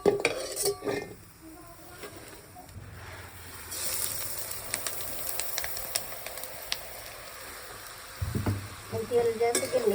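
Coriander seeds and spices dry-roasting in a pan for Solapuri kala masala, heard as scraping, clinking stirs and faint crackle throughout, with occasional louder metallic knocks of the utensil against the pan.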